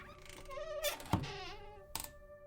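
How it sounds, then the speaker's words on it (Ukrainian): A wardrobe door in a grandmother's bedroom creaks with a drawn-out, wavering groan, broken by a dull knock and a second short strain, set against a quiet, tense backdrop in a Ukrainian spooky tale. "ми почули, як рипнули двері шафи у бабусиній спальні"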